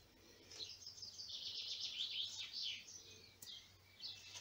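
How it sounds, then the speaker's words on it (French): Birds sing outdoors with continuous high, warbling chirps and tweets. The song is faint and somewhat distant over soft background noise, with no voices. "Vous entendez les oiseaux?"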